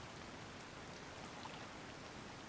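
Steady rainfall in Zelda: Tears of the Kingdom near Rutile Lake, a soft, even hiss of drops on the ground with no gaps or louder bursts, low in level and with no talk over it.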